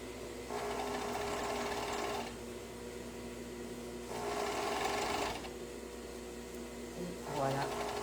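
An electric sewing machine stitches a neckband onto a garment in three separate bursts: two longer runs and a brief final one, with quiet pauses between them and a low room hum beneath.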